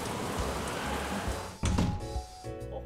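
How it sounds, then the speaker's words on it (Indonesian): Steady rain and wind noise in the farming game Story of Seasons: Pioneers of Olive, a continuous broadband wash that shifts partway through as a door-like transition brings a short tonal chime over the weather. "di luar berisik banget guys karena hujan angin ya guys"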